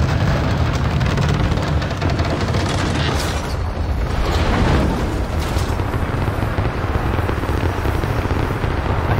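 Heavy rumbling booms and crashing debris as gates are destroyed in the video game Rise of the Tomb Raider, a loud, continuous roar with layered impacts and no speech.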